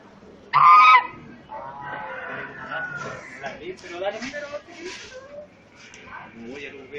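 A goose gives a loud, sharp honk near the start, followed by softer bird calls mixed in with people talking nearby.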